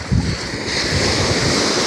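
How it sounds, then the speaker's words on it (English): Ocean waves crashing against a rocky shore, a continuous loud rushing surge mixed with strong wind buffeting the microphone, with no voices. "enjoy the waves and some rocks"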